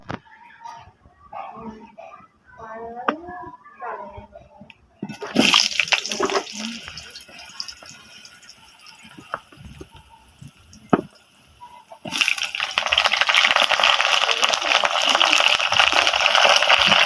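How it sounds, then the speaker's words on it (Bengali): Vegetables fry in plenty of oil in a wok, a loud steady sizzle that erupts suddenly, eases, then returns strongly, with someone speaking before it and clinks of utensils between. "তেল দিয়ে সব সবজিগুলোকে আমি ভালোভাবে ভেজে নেব।"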